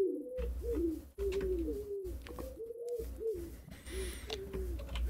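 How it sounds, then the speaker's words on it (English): Pigeons in a modded Minecraft game coo repeatedly in soft, throaty warbling calls, several in quick succession, close and clear over a low game ambience with brief gaps. "Pigeons. Interesting."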